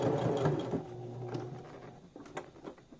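A sewing machine stitches a vintage Navy WAVES-style sleeve placket in a short, close burst of rapid mechanical whirring that slows and gives way to a few light clicks, with no talking.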